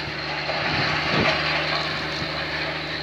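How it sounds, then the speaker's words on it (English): A tractor passes by on a country lane in Essex, a steady low engine drone swelling as it draws near and fading again, fairly close. "can't beat a bit of tractor action, can you? I thought he was going to run me over for a second."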